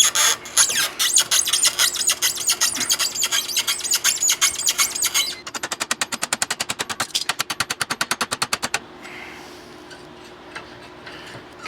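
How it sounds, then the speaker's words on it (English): Rapid mechanical clatter, first a dense buzzing rattle, then a steady run of sharp, evenly spaced ticks, while the passenger-side door hinge on a Chevy COE truck is pulled apart. The noise stops near the end, leaving faint room noise. "All right, get this passenger hinge pulled apart."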